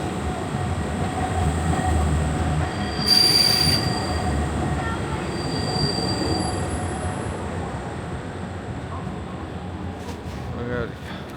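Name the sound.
tram passing on the street in Prague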